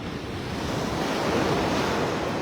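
Ocean surf washes steadily at a North Carolina beach, a broad continuous roar of breaking waves mixed with wind rumble on the microphone, with no voices.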